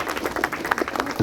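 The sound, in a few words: applause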